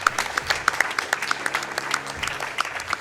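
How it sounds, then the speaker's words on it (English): Crowd applause at a live speedrunning charity marathon, a brief burst of many hands clapping at moderate distance, with individual claps standing out over a steady wash. "I don't know what you're clapping for."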